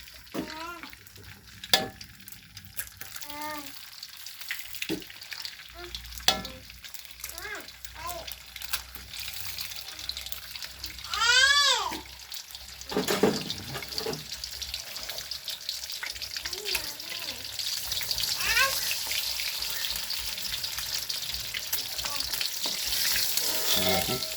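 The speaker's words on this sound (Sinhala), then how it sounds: "බිත්තර ටික හොඳට ෆ්‍රයි කරගන්නවා." Eggs frying in oil in a pan for egg fried noodles, a steady sizzle that builds over time, with stirring clicks, clatters and some background talk.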